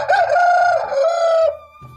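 An Indian-breed fighting rooster crows loudly and close in one long, strained call at a Bhimavaram cock breeding unit, followed by a quieter clucking note from another bird.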